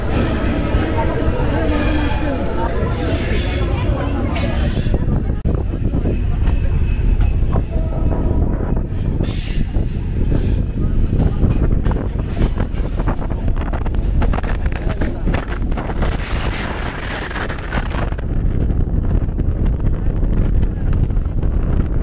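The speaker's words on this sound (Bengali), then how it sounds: "মধুমতি এক্সপ্রেস ছেড়ে দিল ফরিদপুর রেলওয়ে স্টেশন" Madhumati Express train pulls out of Faridpur railway station in a new coach, a loud, continuous rumble of rolling wheels and carriage noise with gusty wind across the microphone throughout.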